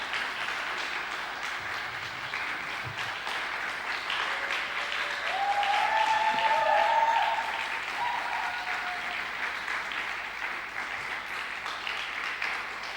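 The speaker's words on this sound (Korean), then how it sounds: "이제 장로님 나오실 때 우리 박수로 환영에 맞이하도록 하겠습니다." Church congregation applauding to welcome an elder at a Korean church Sunday afternoon service in Rome, steady sustained clapping from a full room that swells briefly in the middle, with an organ or keyboard tone underneath.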